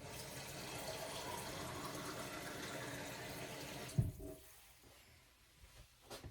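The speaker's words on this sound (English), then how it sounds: "So I'm going to fill this cream of chicken can with water" Tap water runs into an empty cream of chicken soup can, a steady close splashing pour that stops with a small clunk, followed by quiet drips and faint handling.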